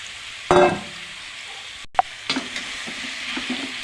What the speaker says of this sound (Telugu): ఆయిల్లో మష్రూమ్ వేసుకుని ఫ్రై చేయాలి.